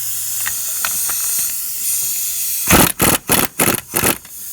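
A pneumatic impact gun works a bolt on a Chevrolet Trailblazer 4.2L wheel hub, letting out a steady air hiss and then several loud, sharp rattling bursts in quick succession, close by.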